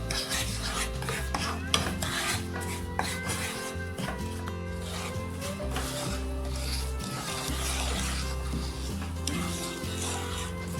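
Semolina being stirred in a pot for milky Turkish helva, a steady scraping and rubbing of the spoon against the pot that keeps going throughout with no pauses, close and moderately loud, with background music underneath.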